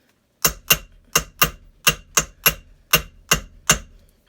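A hand hammer strikes blunt metal letter stamps in a steady series of ten sharp, close, ringing hits, evenly spaced with brief silences between them.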